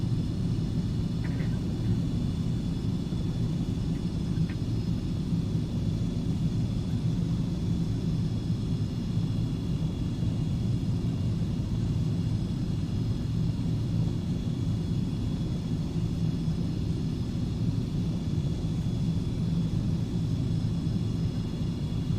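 A Beechcraft Premier 1A business jet taxis in the X-Plane 11 flight simulator, with a steady, unbroken engine rumble and a faint high whine holding constant throughout.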